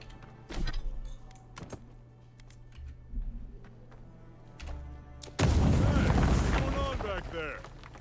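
A grenade in the game Avowed detonates with a sudden, heavy blast about two-thirds through, followed by rumbling debris, after a few scattered thuds and quieter ambient rumble.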